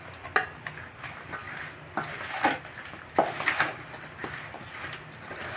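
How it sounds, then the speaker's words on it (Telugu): Chilli pieces dropping into a mix of avakaya mango pickle, making a series of soft, close thuds and clatters against a vessel, irregular and fairly quiet. "ఇందులో అయితే నేను ముక్కలు వేసేస్తున్నాను."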